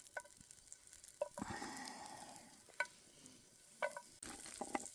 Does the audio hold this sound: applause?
no